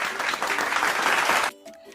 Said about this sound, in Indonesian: Beri tepuk tangan untuk Jono.